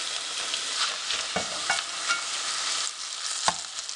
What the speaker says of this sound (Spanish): voy a seguir friendo el resto de las tortillas